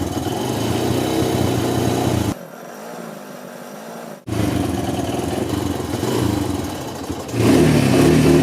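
A motorcycle engine drones steadily while riding, loud and continuous, dropping to a quieter hum for about two seconds midway before returning and swelling louder near the end.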